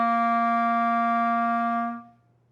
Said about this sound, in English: you should get a burst of sound because that air should shoot right through your instrument